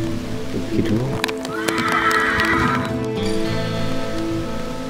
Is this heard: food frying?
no